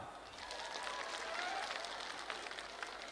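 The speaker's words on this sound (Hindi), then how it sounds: "आप लोग को ताली बजाओ" Crowd at a public political rally in Shillong applauding, a faint steady patter of many hands clapping in a large open space, continuing evenly for a few seconds.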